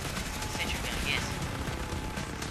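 Steady automatic fire from a sentry gun in Call of Duty Black Ops Dead Ops Arcade, a continuous rattling burst that stays dense and even throughout, with game noise and a voice underneath.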